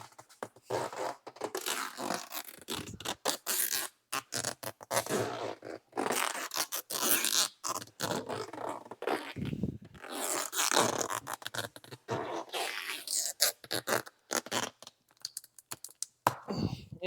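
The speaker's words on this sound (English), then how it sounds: "I am wasting a lot of clear tape" Clear tape pulled off a roll and wrapped onto goalie gear, a dense series of loud, ripping, crackling pulls in quick bursts with short pauses between them, close up and with no talk.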